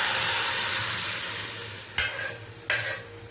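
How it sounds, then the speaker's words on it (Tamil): Dal being stirred into a sizzling tempering in a pan for dhal puri, with a steady hiss and two sharp bursts of louder sizzle as the liquid hits the hot oil. "நம்ம அந்த பருப்பை சும்மா இப்படி கரண்டிலே கலந்து கலக்கி வச்சுக்கோ, அதை இதில் ஊற்ற வேண்டியதான்"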